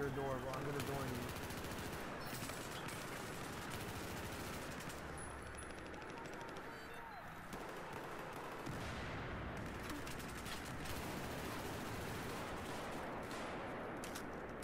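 Rapid automatic gunfire rattles in a shooter game as a player strafes side to side while prone. The bursts are loud, dense and continuous for the whole stretch, and players talk over them throughout.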